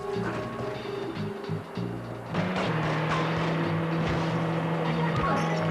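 Cars driving in the video game The Getaway, engines droning and revving with tire noise, starting quieter then growing louder and steadier with a sustained engine tone, with no talk over it.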